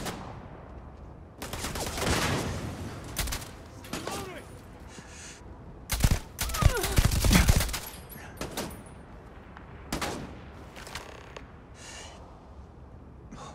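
Gunfire in the video game Starfield comes in several loud bursts of rapid shots, separated by short pauses, with a voice grunting once amid the firefight.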